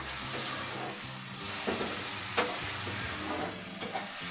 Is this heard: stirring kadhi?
yes